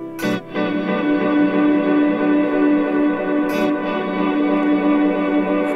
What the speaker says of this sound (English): your reverb and your delay